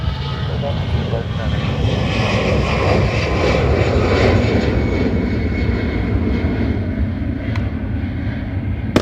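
A fixed-wing airliner landing on runway 28 at Dublin Airport, its engine roar steady and fairly loud throughout, with radio-style talk faintly mixed in.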